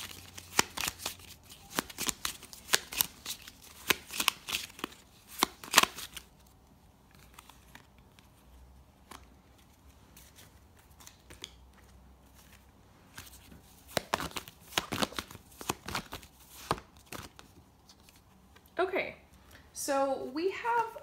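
Tarot cards are shuffled for a reading in two bursts of crisp, rapid riffling separated by a quiet stretch, with a voice speaking briefly at the end.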